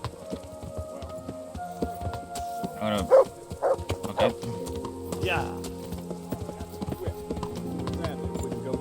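Horse hooves clip-clop at a steady riding pace in the Kingdom Come: Deliverance video game, close and moderately loud, with brief voices speaking over the hoofbeats partway through.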